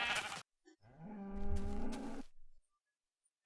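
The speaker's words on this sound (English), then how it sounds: "And I just got pushed into a sheep." Sheep in the Minecraft video game, a single close, wavering bleat lasting over a second, with brief clicks before it and silence after.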